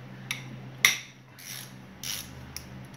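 A hand ratchet clicking in short bursts while a mechanic unbolts the cylinder head from a 1998 Ski-doo Formula 583 snowmobile engine, sharp close metallic ticks separated by pauses over a faint background hum.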